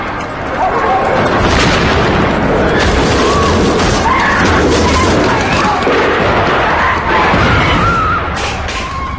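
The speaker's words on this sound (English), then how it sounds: "Gunfire, explosions and screams echo across Prince's Gate" Chaotic, loud bursts of gunfire and explosions layered over a continuous din, with distant screams mixed in throughout, at an embassy siege at Prince's Gate, London.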